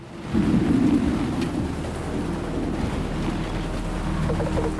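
Thunderstorm in the video game Caravan SandWitch: a loud, steady low rumble of rain and wind, with a heavier thunder surge near the start that then settles into a constant stormy roar.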